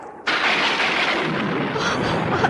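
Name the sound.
thunder of a big storm at sea, radio drama effect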